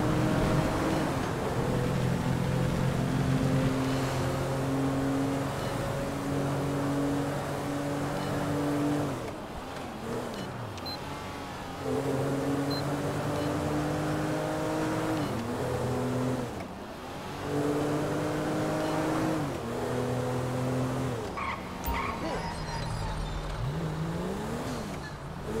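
A park ranger vehicle's engine in Grand Theft Auto V drones loudly and continuously, its pitch climbing through repeated gear changes with brief dips between them.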